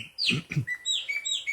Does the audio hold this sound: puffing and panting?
no